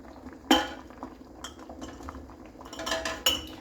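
Glass canning jars being lifted out of and set into a pressure canner while canning pork and beans, giving two sharp, ringing clinks near the start and end with softer knocks and shuffling in between, close by and without talk.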